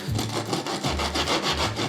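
Crust of a freshly baked homemade loaf crunching and crackling as it is squeezed or broken, a close, dense, rough rustling that continues steadily for a couple of seconds.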